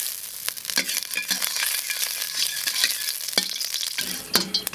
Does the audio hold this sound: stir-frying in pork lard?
yes